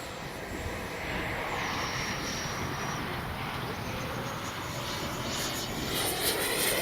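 Freewing F9F-8 Cougar 80mm electric ducted-fan RC jet flying at full speed on a windy day, a steady rushing turbine whoosh with a faint whistling tone that drops in pitch, heard from a distance under gusts of wind.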